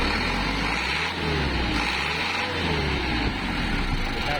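Mitsubishi 4M51 diesel engine with low power and hard starting, revved steadily after a start: a continuous close-up engine drone that rises and falls slightly, with no talking.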